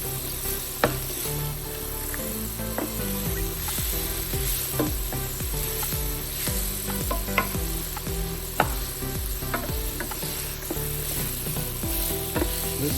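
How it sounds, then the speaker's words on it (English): Green beans and bacon stirred in a sizzling pan: continuous frying hiss broken by regular scraping strokes and sharp clicks of the utensil, with soft music running underneath. "You wanna really stir them in."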